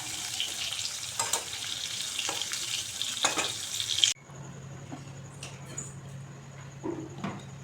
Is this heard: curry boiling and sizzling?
yes